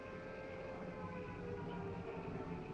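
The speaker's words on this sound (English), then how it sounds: "Air raid sirens" Air raid sirens wailing in a 1942 Sherlock Holmes wartime film soundtrack, a sustained droning tone over low rumbling background, steady and unbroken with no speech.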